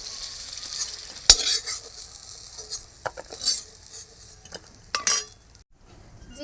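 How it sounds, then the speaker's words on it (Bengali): Small prawns frying in a pan, a steady sizzle broken by a sharp metal clink and repeated scraping stirs with a utensil, fading near the end. "ছোটো ছোটো লাল লাল করে ভেজে নিয়ে তুলে নেবো।"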